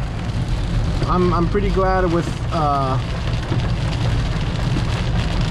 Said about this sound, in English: Area is definitely getting some rain,